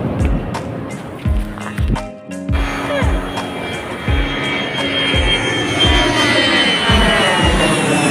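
An airplane flies over Phuket airport in Thailand, a loud broadband jet roar that swells and holds across the whole stretch, with rhythmic low thumps and brief knocks near the microphone underneath.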